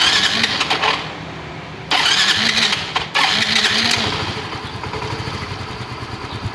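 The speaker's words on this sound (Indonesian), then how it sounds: "Oke, motornya langsung hidup" A motorcycle's electric starter cranks and the engine catches, then settles into a steady close idle; a mechanic is testing the bike with a fresh spark plug fitted.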